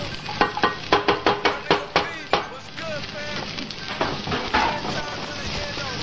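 Chopped onion for Flint-style Coney dog sauce goes into a hot skillet: a quick run of sharp taps and clatters, then a steady, close sizzle and crackle that carries on to the end.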